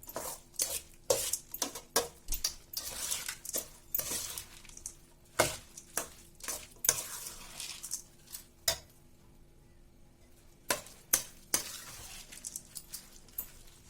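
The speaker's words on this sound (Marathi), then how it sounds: "ज्वारी आणि हा घाटा असा चांगला एकत्र मिक्स करायचा" Cooked ghata is mixed into jowar flour by hand in a vessel, giving irregular clinks, taps and scrapes, some sharp and close, with quieter gaps between bursts and no talking.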